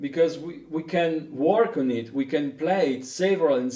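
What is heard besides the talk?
No distinct noise like a dog, phone or traffic.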